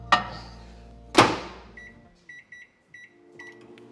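A microwave oven heating a bowl of cream of rice with water: two sharp door clunks a second apart, then a short series of electronic beeps and a low hum as it starts running.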